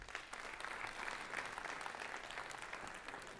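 Sustained audience applause at a stand-up comedy show, steady and dense clapping filling the room for a few seconds without a break, fairly faint and distant.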